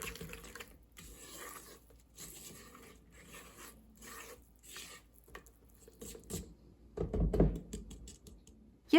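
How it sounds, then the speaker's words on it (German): A wooden spoon stirs spices, almonds, sugar and egg in a bowl for gingerbread, giving soft, intermittent scraping and rustling strokes up close, quiet overall with a louder scrape toward the end. "Diese Zutaten rühre ich nun mit dem Kochlöffel einmal unter."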